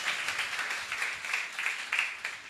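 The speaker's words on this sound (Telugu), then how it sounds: "కొట్టే చప్పట్లో ఒకసారి గట్టిగా." An audience at a Christian testimony gathering claps loudly in a dense, steady burst of applause lasting the whole stretch, with no one speaking over it.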